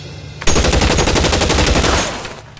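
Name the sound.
gunfire from armed men in the video game L.A. Noire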